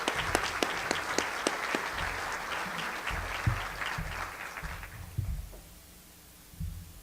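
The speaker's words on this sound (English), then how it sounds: "So if we could just give a round of applause to the board members," A conference audience applauds the board members: moderate clapping that thins out and fades after about five seconds, leaving a quiet room with a few low thumps and stray sounds.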